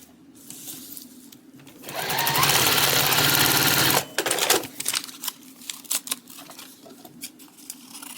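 A sewing machine stitches pieces of a quilt block together, a loud, steady rapid whirr lasting about two seconds, then stopping, followed by quieter clicks and fabric handling.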